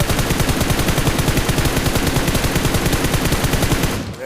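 Rapid automatic gunfire in the mobile battle royale game PUBG Mobile played on the GameLoop emulator, a loud unbroken burst of evenly spaced shots that runs for about four seconds before cutting off.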